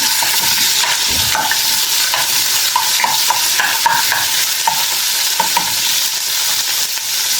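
Ginger and chicken stir-frying in a hot pan for a Chinese dish, giving a loud, steady sizzle with repeated scraping stirs of a utensil against the pan.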